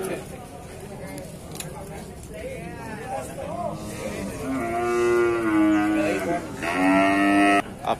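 Young male cattle moo at an Indonesian livestock market: several long, low, close calls, the loudest near the end, under someone talking.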